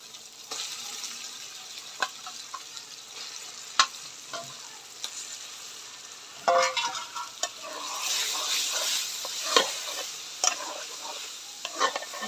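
A piece of chicken sizzles and is stirred through cooked spice masala for chicken curry, giving irregular scraping clicks and a steady fry that swells louder toward the end, with no talking.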